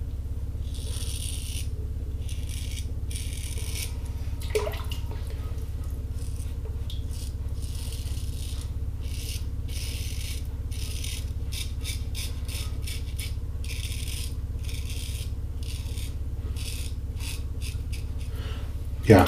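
A Gem Jr single-edge safety razor shaving against the grain gives a continuous close-up rasping scrape in short repeated strokes that quicken toward the end, over a steady low hum.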